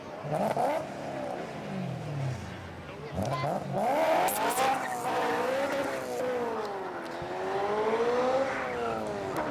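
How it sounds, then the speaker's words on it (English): A 4-liter V8 supercar engine revs and howls repeatedly, pitch climbing and dropping through gear changes, with tires squealing at moments, fairly loud and nearby. "we're going to hear the engine, that V8 ripping"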